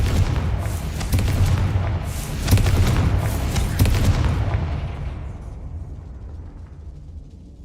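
A Confringo blasting spell in Hogwarts Legacy erupts in a deep, rumbling explosion with crackling bursts, sustained for several seconds before fading away.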